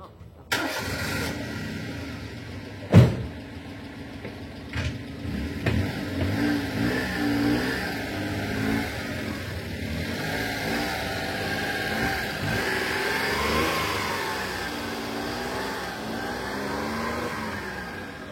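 A Honda Today budget race car engine turns over with a sharp start, then revs up and down steadily on track, loud and close, with a few clunks early on.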